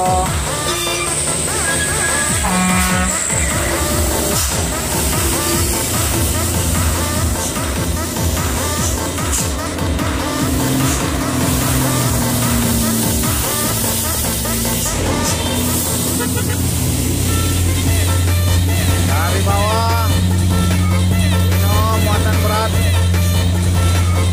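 A convoy of Mitsubishi Fuso box trucks labors up a steep incline, a dense, continuous low engine drone and rumble with shifting tones, and a noisy crowd murmur throughout.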